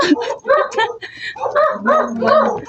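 Several dogs bark in short, sharp bursts close by, overlapping with people talking excitedly.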